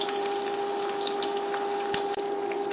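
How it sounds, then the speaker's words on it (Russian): Cabbage patties frying in butter and oil in a pan over medium heat, a steady close crackling sizzle with a constant hum beneath and faint pops throughout. "Масло разогрелось, и мы выкладываем наши биточки на сковородку."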